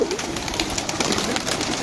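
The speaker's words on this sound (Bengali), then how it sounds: "সবগুলো কবুতর বর্তমানে রতনদা এই উড়াইতেছে" Pigeons coo and stir continuously in a loft as a keeper releases the whole flock to fly, a dense, close bird texture with no talking.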